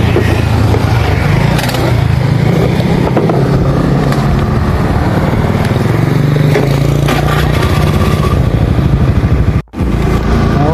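A motorcycle roars steadily through the whole ride, loud and close, with continuous engine and wind noise. There is a brief dropout near the end.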